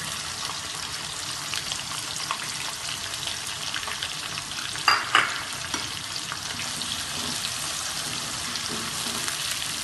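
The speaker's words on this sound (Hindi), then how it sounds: "प्याज को हम लाइट ब्राउन कर लेंगे।" Chopped onion, one medium onion, frying in a pan until light brown: a dense, steady sizzle up close, with a couple of brief clinks from a stirring spoon midway.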